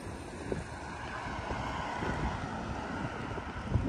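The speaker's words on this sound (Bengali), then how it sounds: "গাছের পাতাগুলি দেখেই বোঝা যাচ্ছে যে বাতাস বয়ে যাচ্ছে" Steady wind blows across the microphone, a continuous rushing noise with occasional gusty buffeting, no voices.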